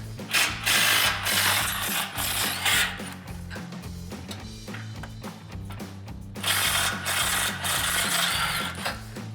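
A ratchet loosening 13mm exhaust flange bolts on a 2009-2014 Ford F-150 6.2L V8 clicks rapidly in repeated bursts, loud and close, with pauses between cranking strokes and a steady mechanical hum underneath.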